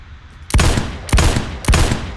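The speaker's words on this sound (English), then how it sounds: "I missed all those three shots" Three loud, evenly spaced gunshots from the Roblox shooter game Phantom Forces, each a sharp, close blast with a short decaying tail, about half a second apart and heard alone.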